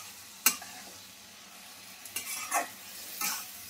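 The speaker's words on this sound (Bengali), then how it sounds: "ভালো করে কষে নিই সোয়াবিনটা" Soybean chunks stir-fried in oil in a pan, with a soft steady sizzle broken by a few sharp spoon scrapes and clinks against the pan, close up.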